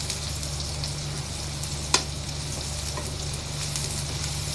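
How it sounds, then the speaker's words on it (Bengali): Onions with a little salt frying in a pan, a steady close sizzle throughout with one brief clatter of stirring near the middle; no one speaks. "আমার পেঁয়াজগুলো ভাজা হয়ে আসছে"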